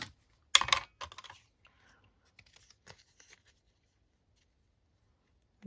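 Scissors cut through book pages for junk journal ephemera, with a crisp, close crunch of snipping followed by a few fainter, scattered clips and rustles, then quiet.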